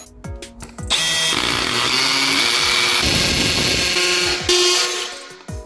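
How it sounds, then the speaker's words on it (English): A power drill drives a Tapcon concrete screw into concrete during a bi-fold closet door repair, its motor whining loudly and steadily for several seconds after a few short clicks, then stopping abruptly. "Sometimes you might have to put the drill bit back down in the hole a few times to clear the dust out."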